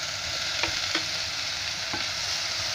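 Crushed ginger and garlic frying in a pan for chicken soup, a soft continuous sizzle broken by a few scraping stirs of a spoon, fairly quiet and close, with no talking.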